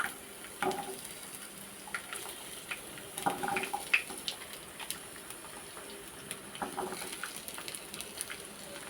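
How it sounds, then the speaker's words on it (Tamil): Onions frying in hot sesame oil produce a faint, continuous crackle and spatter with scattered louder pops, heard close but quiet. "நல்லெண்ணெய் சேர்த்து நல்லா சூடு ஏறட்டும் சூடு ஏறினதுக்கப்புறம் நம்ம கட் பண்ணி வச்சுருந்த பெரிய வெங்காயம்"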